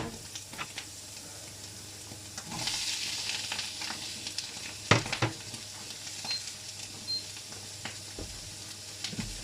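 Bell peppers dropped into a hot oiled pan sizzle softly and steadily, with scattered crackles and clinks of stirring, close and fairly quiet.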